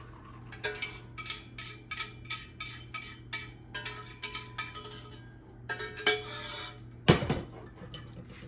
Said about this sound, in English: So I'm going to run it through the strainer.